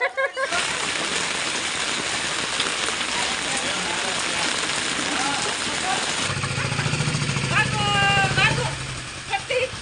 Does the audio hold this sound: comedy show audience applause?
no